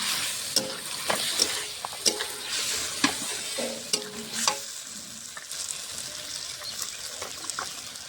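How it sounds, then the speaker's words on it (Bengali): Potatoes frying in a pan with green chilli and ginger paste, a close, steady sizzle broken by sharp scrapes and clinks of a spoon stirring through the pan. "আলুটা ভাজা হয়ে গেছে, কাঁচা লঙ্কা আদা বাটা দিয়ে দেবো"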